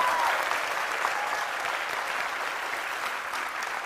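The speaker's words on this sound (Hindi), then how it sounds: "तालियां जोरों से बजाइए देव साहब के सम्मान में" Audience applause in honour of Dev Anand at a quiz show, a dense, steady wash of clapping from a crowd that holds at full strength for the whole stretch without fading.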